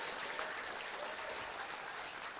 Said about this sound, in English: Okay, so it was just that one that's getting a round of applause.